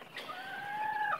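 Newly hatched quail chick giving one sustained, high, thin peep that holds steady for about a second, close and fairly clear over quiet background.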